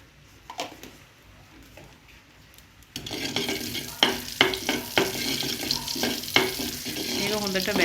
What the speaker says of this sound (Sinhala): මේක හොඳට බැද ගන්න